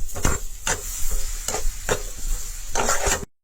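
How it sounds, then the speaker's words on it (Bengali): Semolina and coconut-jaggery mixture for steamed pitha is stirred in a pan to dry off its water, giving repeated scraping strokes about every half second over a steady soft sizzle, close and alone, ending in sudden silence. "ওরকম তো লাড়াছাড়া করতে করতে একটু একটু জলের ভাব রয়েছে, জলটা শুকাই যাক গিয়া।"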